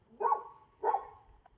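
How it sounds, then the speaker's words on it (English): A dog next door barks twice, muffled and somewhat distant, with a short pause between the two barks. "There's always this dog next door across the school. He's barking."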